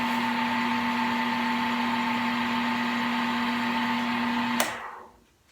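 A Rockler mini lathe runs at 1600 RPM with a steady, even motor hum and whine that holds constant for several seconds, then cuts off abruptly and spins down into silence.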